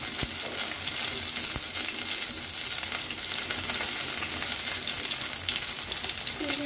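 Fish frying in oil in a pan gives a steady, dense sizzle with crackling pops, constant and close, without talk.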